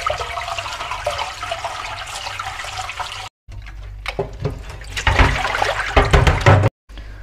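Cooked spinach is rinsed under cold water in a kitchen, with a steady rush of running water, then after a short pause clattering and splashing from handling in a sink or bowl, close and fairly loud.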